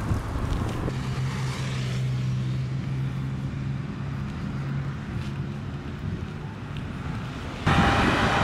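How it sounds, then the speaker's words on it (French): Wind buffets the microphone on a sailboat outing in a steady low rumble, with a vehicle drone underneath and a louder gust near the end. "il y a du vent pas mal"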